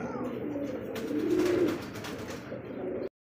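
Pigeons coo at a pigeon farm, a close, rolling run of low throaty calls that swells in the middle and then fades before cutting off.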